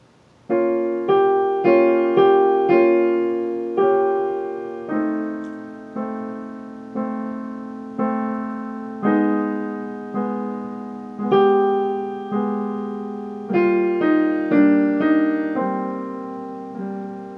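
Keyboard plays a single line of Khachaturian's Andantino, a steady melody of repeated note attacks over sustained left-hand chords, each note decaying, close and clear with no talking.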